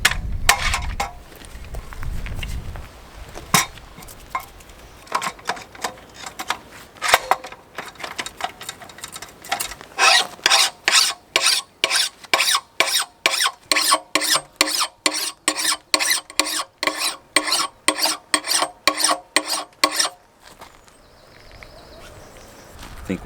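A metal file rasping along an axe blade, starting with a few scattered strokes, then settling into a long run of steady, evenly timed rasping strokes before stopping, with close, loud scraping and brief talk early on.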